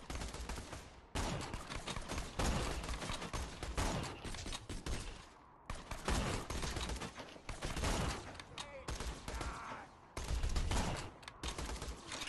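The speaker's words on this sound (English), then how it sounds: "Who else is shooting me?" Dense, continuous gunfire in the video game Borderlands 2, with rapid automatic bursts and booming shots layered almost without a break and only a few brief gaps.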